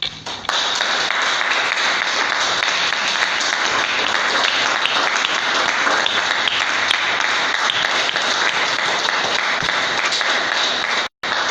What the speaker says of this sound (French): Ouais, acclamez pour Jésus.